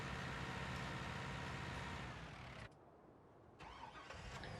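A pickup truck's engine cranks and catches in Farming Simulator 19, a short burst of starter and motor noise. A brief drop follows before the engine settles into a running rumble.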